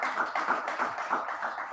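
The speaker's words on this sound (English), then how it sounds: "Ladies and gentlemen, a round of applause for the Uganda Communications Commission" Audience applause at a digital economy event in Uganda, a steady dense patter of many hands clapping close by, sustained throughout without speech.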